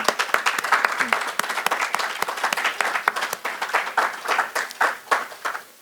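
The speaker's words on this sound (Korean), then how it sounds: "우리 모든 어머니들에게 힘차게 한번 격려와 박수를 보내드리겠습니다" A church congregation claps for mothers on Mother's Day, a steady crackling applause of many hands with sharp individual claps standing out, fairly close and lasting several seconds without talk.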